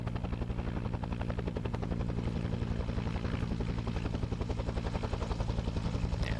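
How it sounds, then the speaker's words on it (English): A helicopter comes in to land in a Vietnam War video game with Australian soldiers, its rotor giving a steady, rapid chopping thump at moderate distance and an unbroken drone beneath. "this is heli. We're gonna try to land now."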